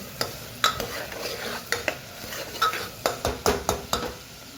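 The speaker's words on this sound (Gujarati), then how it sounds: "સરસ અમે મિક્સ કરી લઈએ." Bottle gourd with mustard seeds, cumin, turmeric and asafoetida stirred in a pan, a spoon scraping and knocking against the metal in a quick series of sharp strokes over a faint sizzle, no one speaking.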